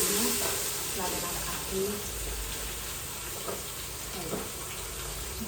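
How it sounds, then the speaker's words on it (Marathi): Cumin and onion sizzling in hot oil in a pan while cooking pav bhaji, a steady close frying hiss running throughout, with someone speaking briefly over it. "जिरं थोडंसं तडतडलं ते आपल्याला टाकायचं आहे कांदा"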